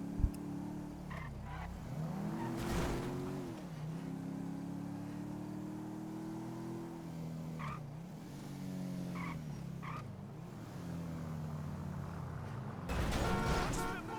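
A car in GTA 5 driven flat out at top speed, its engine holding a loud, steady high-revving drone with pitch sweeps at gear changes and brief tire squeals, continuous throughout with a louder burst near the end.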